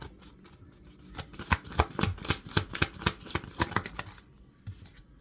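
Tarot cards being shuffled by hand, a rapid run of crisp riffling snaps and flutters that builds, stays loud for a few seconds, then trails off into quiet.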